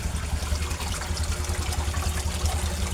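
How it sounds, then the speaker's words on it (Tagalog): Continuous bubbling and trickling water from an aquarium air pump aerating a koi fish pond, a steady close churn with a low rumble underneath and no pauses. "Sa sobrang lakas niya, ang daming bubbles na naproproduce niya"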